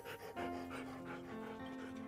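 A dog in a Halloween cartoon pants in quick, soft rhythmic breaths, close and fairly quiet, with a steady tonal hum running underneath.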